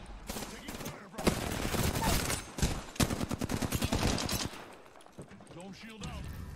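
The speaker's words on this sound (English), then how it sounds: "Taking fire" Apex Legends video game gunfire: bursts of rapid automatic shots, one dense volley at close range and another sharply pulsed, with brief pauses between, fairly quiet overall, with a voice speaking toward the end.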